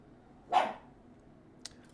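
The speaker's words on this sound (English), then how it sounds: "I do apologize about some of the barking, everybody." A single loud dog bark indoors, close by, followed by a brief faint click, with no talking.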